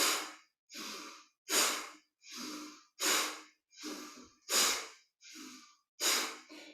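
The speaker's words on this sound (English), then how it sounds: "Breath of fire is the drawing in of the navel as you exhale, and the inhale happens automatically." Breath of fire yoga breathing, with the navel pumped on each exhale: about ten forceful, evenly spaced breaths through the nose, close and clear with brief silences between them.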